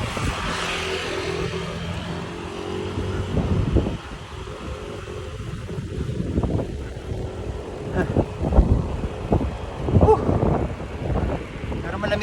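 Wind buffets a microphone steadily while riding up a high-elevation route toward Amadeo, a continuous rushing roar with passing vehicle hum and some talking underneath.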